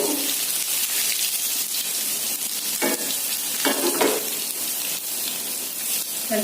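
Shallots, green chillies and curry leaves frying in hot oil for chutney, a loud, dense, continuous sizzle close by with a couple of brief stirring bursts, no voices.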